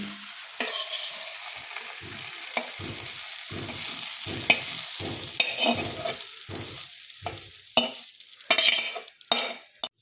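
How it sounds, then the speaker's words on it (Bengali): Onions fry in a pan in a home kitchen with a steady close sizzle, broken by repeated scraping strokes of a spatula stirring them. The strokes grow sharper and more clattery toward the end. "পেঁয়াজগুলিটা আমার ভাজা ভাজা হয়ে এসছে আর একটু সামান্য নাড়াচাড়া করে আমি নামিয়ে দেবো পেঁয়াজগুলি"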